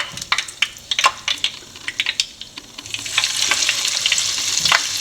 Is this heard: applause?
no